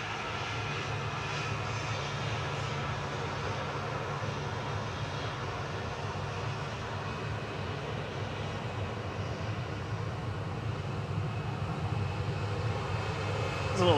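A small VistaJet business jet on approach at Manchester Airport, a steady distant engine roar holding evenly throughout, with no voices over it.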